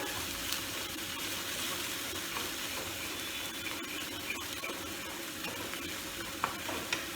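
Spices and ginger are sautéed in a pan for a fish curry, giving a steady, moderately quiet sizzle with occasional scraping clicks of stirring that carry on throughout.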